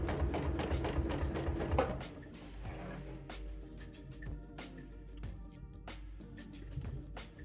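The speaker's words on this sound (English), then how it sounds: "I'm just sewing back to where I want my start point to be for the next one" A sewing machine quilting curves along a Rhapsody Plus ruler, running in a fast continuous stitching burst, then slowing to spaced, individual needle strokes that clatter close by.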